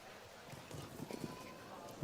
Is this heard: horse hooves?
yes